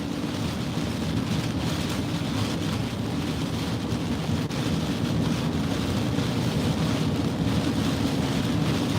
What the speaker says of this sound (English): I'm getting too much wind coming off the lake, exposed to the lake here coming up